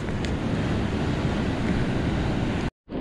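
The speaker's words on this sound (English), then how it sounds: "This is why you don't want to turn your back on the ocean." Ocean waves break on the shore in a steady, roaring wash mixed with wind buffeting the microphone, loud and close, ending in an abrupt cut to silence.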